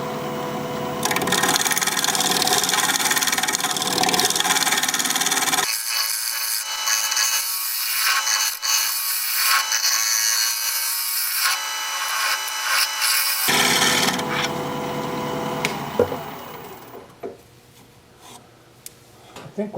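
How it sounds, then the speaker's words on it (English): Shear scraping on a walnut piece spinning on a wood lathe, a continuous close rasping scrape that drops out midway to a quieter hum, then returns before fading. "Shear scraping."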